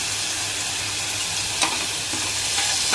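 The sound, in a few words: sautéing onion and moth beans in a pan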